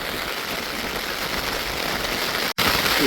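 Heavy rain pours down in Jaffna amid swirling wind, a dense, steady roar of drops drumming on surfaces with one abrupt brief cutout near the end.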